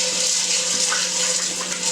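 Water splashes and swishes steadily as dried Peruano beans are rinsed in a bowl, a close, continuous wash of sound with no talking.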